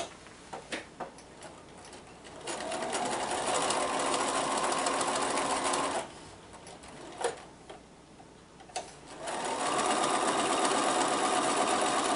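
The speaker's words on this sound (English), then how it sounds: "So I'm going to sew the checkerboard together, and then I'm going to sew that to my block." A sewing machine stitches quilt checkerboard pieces in two steady runs of rapid mechanical whirring, separated by a quieter pause with a few clicks and handling taps.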